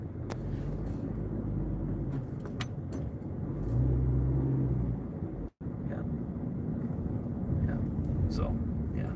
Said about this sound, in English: And you got some trucks cleaning up.